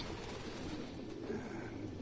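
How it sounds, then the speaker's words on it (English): Pigeons coo softly in the video game Detroit: Become Human, a few low, rounded calls rising over a faint, steady room hum with no talking. "No human could live with all these fucking pigeons."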